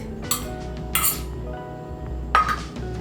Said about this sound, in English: just mix all of these dry ingredients briefly